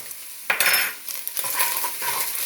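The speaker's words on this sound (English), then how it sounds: "You want to stir that in first." A spoon scrapes and clinks around a pot of ground sirloin chili as brown sugar is stirred in, a few close strokes over a soft sizzle.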